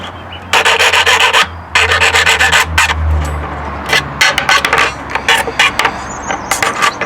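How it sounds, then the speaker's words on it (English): Steel model railway rails being filed to chamfer their ends, a close, loud rasping of repeated strokes in several bursts with short pauses between them. "we just give the ends of the rails a bit of a chamfer"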